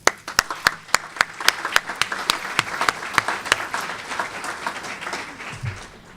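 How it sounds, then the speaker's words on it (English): At a caregivers recognition luncheon, the audience bursts into applause with a few sharp, distinct claps that swell into dense clapping and then gradually fade, with a faint voice near the end. "I would like to take a brief minute to applaud the caregivers in the room"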